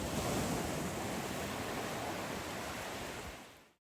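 Sea waves wash steadily on Belek beach in Antalya, a broad continuous roar of surf with some wind noise, loud and close, fading out at the end with no voices.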